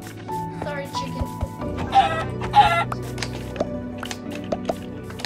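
Chickens in a video game cluck in short repeated bursts, fairly close and clear, with a few sharper squawks among them and a person talking over the game sounds.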